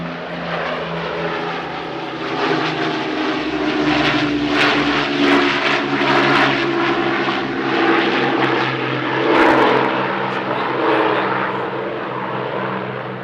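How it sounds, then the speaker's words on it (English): An Avro Lancaster bomber makes a dirty pass at an airshow, its piston propeller engines roaring loud and steady with a rising, throbbing drone as it passes overhead. "Now a dirty pass by the Lancaster"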